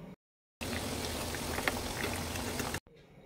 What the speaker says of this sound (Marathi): मी ते डीप फ्राय करून घेणार आहे। या वड्या मी लो टू मीडियम फ्लेमवर छान क्रिस्पी अशा तळून घेणार आहे।